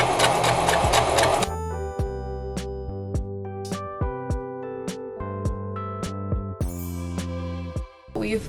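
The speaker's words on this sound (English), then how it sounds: "while you're sewing, you're going to want to stretch out your fabric as much as you can" A sewing machine stitches a lettuce hem on stretched fabric of a thrifted garment, its needle running in quick mechanical bursts with brief pauses, close and alone without speech.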